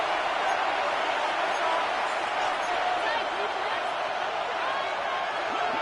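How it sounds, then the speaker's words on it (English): Steady broadband roar of a stadium crowd in the Madden 25 football video game, a Saints versus Jets match on third down, continuous and loud throughout with no distinct claps or peaks. "This crowd into it now as we get to third down."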